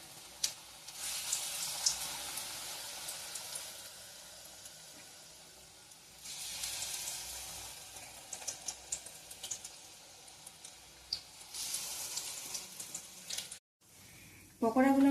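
Potato pakoras fry in hot oil in a kadai over a low flame, a soft, continuous sizzle that swells in several waves and ends with a brief sharper burst.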